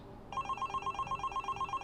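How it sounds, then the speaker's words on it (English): A telephone rings with a rapid, evenly pulsed electronic trill that starts abruptly and repeats steadily, fairly quiet and alone in a still indoor room. "Phone."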